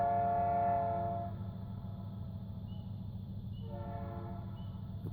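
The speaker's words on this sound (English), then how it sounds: "this should be our train coming in" A freight train approaching at Smiths Falls, Ontario, with a loud steady horn blast, a pause, then a second horn blast over a constant low rumble of the engine and rolling cars.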